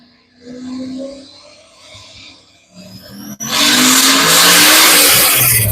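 A 1986 Chevrolet Camaro race car slides loose on the track at a motorsports park, its tires squealing and engine roaring loud and close, building from quieter engine noise into a sustained burst of skidding.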